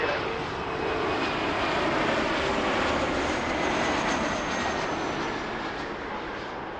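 An Air Canada airliner takes off at Toronto airport, its engine roar loud, broad and continuous, swelling and then slowly fading.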